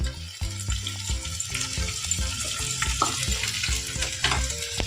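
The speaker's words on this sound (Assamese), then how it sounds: "পিঁয়াজখিনি দি এনেকৈ ভালকৈ ভাজি লওঁ" Chopped onions fry in a pan with half a spoon of mixed masala, giving a steady close sizzle broken by repeated scraping stirs.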